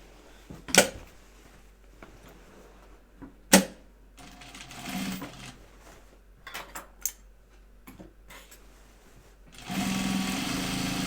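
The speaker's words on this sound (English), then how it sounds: "I think I'm gonna edge stitch this" A sewing machine edge-stitches a bag prototype in short, loud bursts of rapid clatter separated by quiet pauses, then runs steadily through the last seconds.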